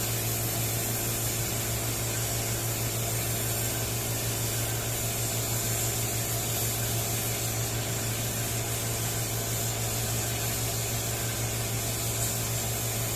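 A spray gun lays down a first coat in a micro paint repair, giving a steady, unbroken hiss with a low hum under it that runs at constant level throughout, with no talking.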